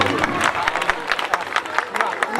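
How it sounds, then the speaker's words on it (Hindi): Audience applause and cheering at a birthday moment during a GPL cricket final at DSC Ground, a dense wash of clapping and crowd noise at steady loudness. "जोरदार तालियां फिर एक बार"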